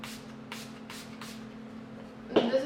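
Four quick, hissing spritzes from a Milani Make It Last setting spray bottle follow one another in a rapid, even rhythm, then a brief louder rustle.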